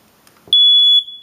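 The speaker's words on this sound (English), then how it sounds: "if you press this, it will test whether your smoke detector is still working" A household smoke detector's test button sets off a single sharp, piercing electronic beep, close and loud, holding steady for about half a second before cutting off.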